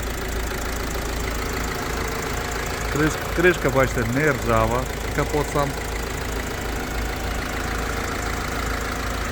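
A 2009 Mercedes Vito 111 van engine idles with a steady low hum throughout, while someone speaks briefly over it in the middle.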